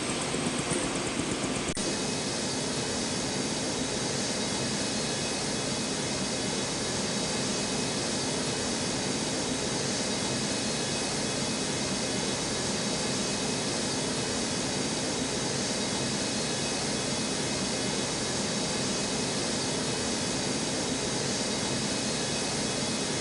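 Jet airliner at Newark airport's runway 4L, a loud, constant broadband roar of jet engines holding steady for over twenty seconds with no voices.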